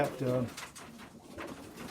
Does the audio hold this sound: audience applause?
no